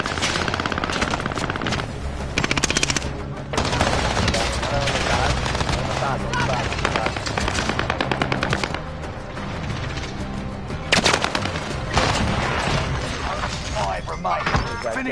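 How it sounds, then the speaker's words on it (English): Dense gunfire in a PS4 shooter game, with rapid bursts and single shots layered over a steady game soundtrack and effects throughout. "Taking fire."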